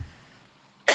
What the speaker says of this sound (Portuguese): Desculpe que eu estou com tosse.